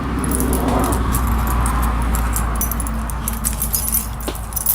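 Light metallic jingling of keys, close by, with soft clinks scattered over a steady low background hum.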